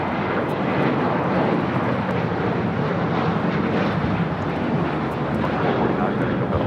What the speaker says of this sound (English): 2449 taking off to Las Vegas on the 737-800